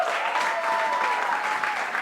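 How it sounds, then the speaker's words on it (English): At a stand-up comedy special, the crowd breaks into sustained clapping, a dense even wash at steady volume with a faint tonal whine running beneath it. "A round of applause for yourself."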